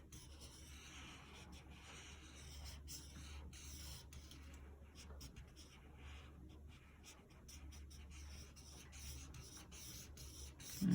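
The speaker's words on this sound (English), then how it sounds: "I'm using my marker in that direction to follow the flow of the drawing" A marker drawing on paper, with long soft rubbing strokes that follow a cartoon outline, continuous and close, with short pauses between strokes and no voice.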